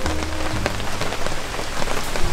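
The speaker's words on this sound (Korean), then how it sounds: "빗소리 좋다." Steady rain pattering on a surface at a rainy-weather campsite in Pyeongchang, a dense close hiss with scattered individual drop impacts throughout, no voices.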